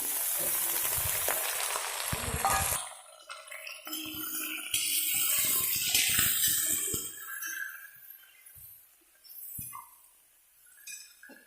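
Chicken pieces and onions frying in a pan for an Assamese-style curry, crackling sizzle with clinks and stirring scrapes, loud at first and then tapering to softer intermittent spatters.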